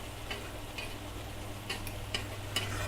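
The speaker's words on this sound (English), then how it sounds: "I'm gonna kind of move things to one side here and flip one, then go move it back the other way" A burger with mushrooms and onions is pushed aside and flipped in a frying pan: soft scraping and tapping of a spatula over a low, steady sizzle, close and fairly quiet.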